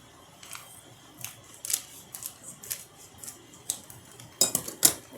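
Scissors snip open a food package in a home kitchen, a series of sharp crisp cuts and rustles coming in irregular bursts, close and fairly quiet with no talking.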